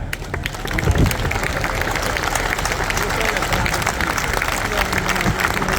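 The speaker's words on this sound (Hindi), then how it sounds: "सबसे प्रार्थना करता हूं कि खड़े होकर एक दफा जोरदार तालियां बजाएं।" A crowd at a political rally in Hisar stands and claps loudly, the clapping mixed with crowd babble and movement at a steady volume throughout.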